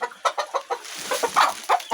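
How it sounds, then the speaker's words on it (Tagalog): Rhode Island Red chickens cluck in a rapid series of short, close calls, with soft rustling and no talk. "Ang mga manok namin, oh. Rhode Island Red."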